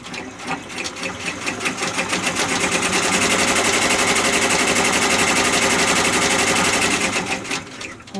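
An embroidery machine stitches the top of a vinyl pocket, a rapid, steady mechanical clatter that builds up and holds loud and close for several seconds before tapering off.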